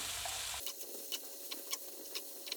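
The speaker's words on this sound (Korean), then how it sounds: "채썰어은 양파를 볶습니다." Sliced onions stir-frying in a pan with a steady soft sizzle, broken by several quick scraping stirs of a utensil across the pan.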